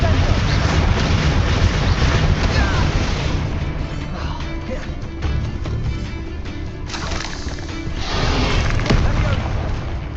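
Explosive Confringo and Bombarda spells in Hogwarts Legacy boom repeatedly through a busy, loud game battle, blasts layered over constant rumbling effects with a few short lulls.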